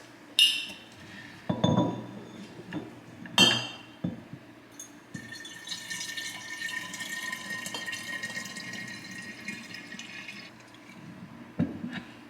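Liquid is poured into glass jars at home, opening with a few sharp glass clinks and knocks, then a steady trickling, splashing pour that runs for several seconds before a final clink; no one speaks.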